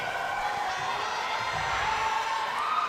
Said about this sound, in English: as you can hear with the crowd, the people are into this game